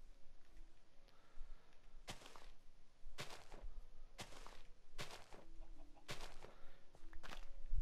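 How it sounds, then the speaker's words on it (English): Minecraft chicken clucking in a game, six sharp short clucks spaced about a second apart over quiet background ambience, no speech. "ooh, it's a chicken"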